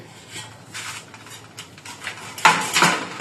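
A knife cuts through a homegrown bottle gourd in a village kitchen, giving sharp scraping and clicking strokes that come in irregular bursts and grow louder toward the end, with no voices.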